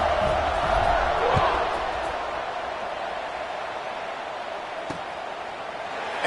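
Stadium crowd noise in the College Football 26 video game, a broad sustained roar that swells early then settles into a steady hum behind the commentary.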